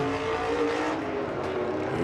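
Supermodified race cars roaring around Shasta Speedway, a continuous distant engine drone with rising and falling pitch as cars run through the turns, moderately faint and without talk.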